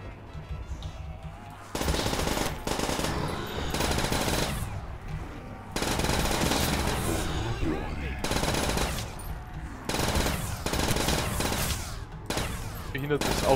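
Rapid automatic gunfire in a Call of Duty custom zombies map, loud sustained bursts separated by brief pauses across the whole stretch, with a player's voice faintly underneath.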